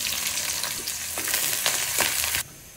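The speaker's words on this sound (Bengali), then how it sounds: "এখন আমি মূলা শাকটা বাগা দিয়ে দিতেছি" Radish greens (mula shak) frying in a pan, a loud, steady close-up sizzle broken by a few stirring scrapes before cutting down sharply near the end.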